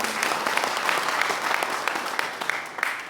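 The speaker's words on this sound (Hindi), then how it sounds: "उनके लिए एक बार जोरदार ताली हम लोग बजाएं" An audience bursts into dense, loud applause at a public gathering, many hands clapping together in a steady roar with a few sharper claps standing out, sustained for a few seconds.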